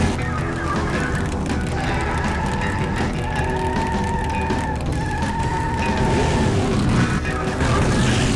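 A car drives steadily with a loud, continuous engine hum and road rumble in the Grim Fandango video game, with no pauses and no voices.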